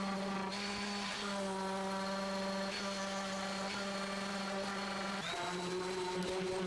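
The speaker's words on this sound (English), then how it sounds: "I'm going to come back and I'm going to sand down all the edges of the shelf" A power sander works the edges of a wooden four-tier children's shelf, giving a steady, close, continuous motor whine with slight shifts in pitch and no speech.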